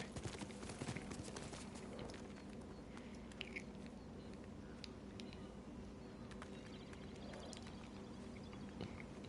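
A horse's hooves clip-clop steadily at a walk through the Ghost of Tsushima game world, muffled and low in level under a busy bed of ambient game sound, with occasional faint bird-like chirps.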